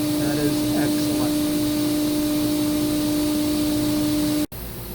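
The spindle of a 2013 Mazak HCN 4000-III horizontal machining center runs at 18,000 RPM, giving a loud, steady high whine over a dense mechanical hum until it cuts off abruptly near the end.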